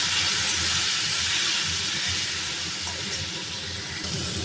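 Water poured into a hot pan of sautéed spices gives a loud, steady hiss that holds close and even throughout.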